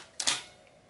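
A Zeiss Ikon Super Ikonta 531 folding camera springs open with two quick, close mechanical clacks a split second apart, followed by quiet.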